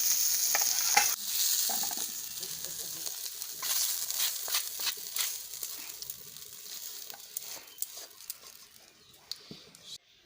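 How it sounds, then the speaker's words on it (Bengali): Potatoes frying in a pan for a Bengali fish-head murighanta, a steady bright sizzle with stirring scrapes and spatters, fairly close and continuous throughout. "যাতে আলুটা ভালো মতো ভাজা হয়। আলুটা ভালো মতো ভাজা হয়ে গেছে,"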